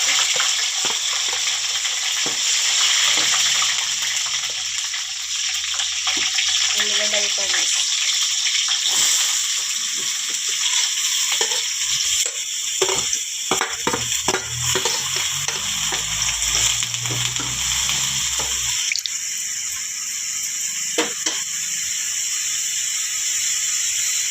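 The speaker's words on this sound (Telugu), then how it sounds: "ఇక నూనె అయిందంటే జీలకర్ర ఆవాలు వేస్తాం పచ్చిమిరపకాయలు అయితే వేసుకుంటాం" Cumin seeds, mustard seeds and green chillies spit and sizzle in hot oil while egg curry is being prepared, a steady frying hiss with scattered pops and crackles, occasional stirring and a brief quieter stretch toward the end.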